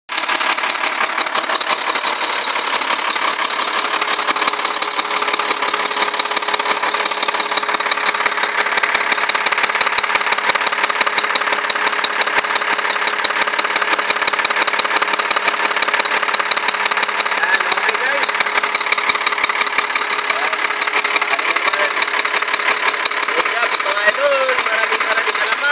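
A steady engine of a Caterpillar 655D loader drones continuously at an even level, close and unchanging, with a faint rhythmic mechanical ticking underneath.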